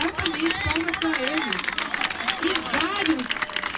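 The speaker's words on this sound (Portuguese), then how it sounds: "Palmas para ele." Applause and cheering from a large crowd at a political rally, dense and continuous, with a voice talking loudly over the clapping throughout.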